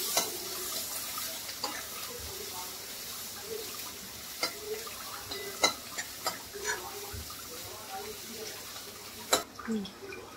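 Finely chopped onion and green chilies being stirred in a pan for chicken samosa filling, a faint steady sizzle broken by scattered scraping taps of a spatula.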